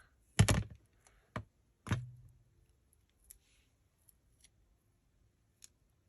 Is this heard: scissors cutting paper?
yes